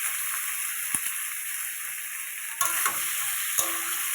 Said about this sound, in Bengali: একটা শুকনো লঙ্কা দেবো, শুকনো লঙ্কা। এবার এটা দিয়ে দিচ্ছি। এটা একটু ভাজা ভাজা হতে থাকুক